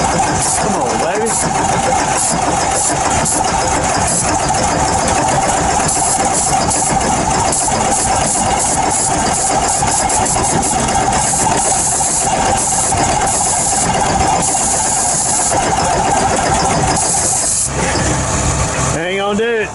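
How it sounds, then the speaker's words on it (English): A cold logging machine engine on an 8-degree morning cranking and struggling to catch, a loud, steady mechanical churn running throughout with someone talking over it. "I ain't never liked no machine that you can't get it to crank when it's cold."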